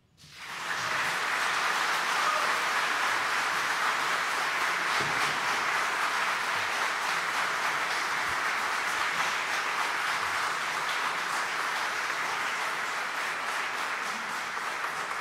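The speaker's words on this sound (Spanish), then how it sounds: "El público les puede brindar un merecido aplauso." An audience at a lawyers' swearing-in ceremony at the Supreme Court breaks into applause, dense steady clapping that starts abruptly and holds loud and even for about fifteen seconds, without talk.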